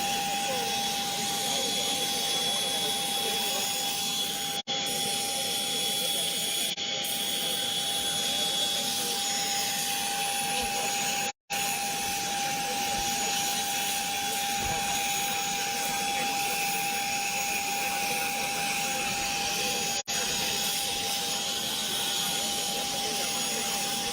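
A plane waiting to carry the Jambi regional police chief runs its engine in a steady, loud whine and roar that holds constant throughout with a sharp tonal hum, while a voice talks over it.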